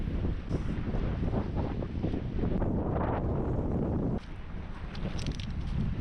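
Strong wind buffeting the microphone with a steady roar and rumble while trout fishing, loud and continuous with a slight dip partway through.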